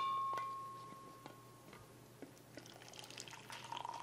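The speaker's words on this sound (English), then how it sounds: "and I'll pour some coffee." Hot coffee poured from a thermos into mugs: a few quiet clicks and small ticks, then a soft trickling rush of liquid building in the last second or so, faint and close.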